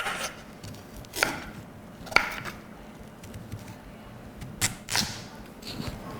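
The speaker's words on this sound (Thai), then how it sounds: "แครอทหั่นยากอะ่ะ" A few crisp knife chops through carrot on a cutting board, spaced irregularly, close and fairly loud over a quiet background.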